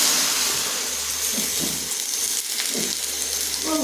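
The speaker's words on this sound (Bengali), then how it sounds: "এই যে বন্ধুরা আমার তেল গরম হয়ে গেছে, এই যে আলুগুলো বানিয়ে রেখেছিলাম সেই আলুগুলো দিয়ে দিচ্ছি" Potatoes fry in hot oil with a dense, continuous sizzle that stays close and fairly loud from start to finish.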